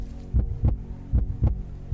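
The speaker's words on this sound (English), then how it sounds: "I'm hearing my heartbeat." A low, thumping heartbeat sound effect from the game Cataclysm: Dark Days Ahead pulses in two double-beat pairs, deep and muffled over a faint hum.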